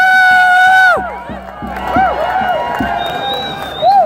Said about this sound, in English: Let's give our hand applause.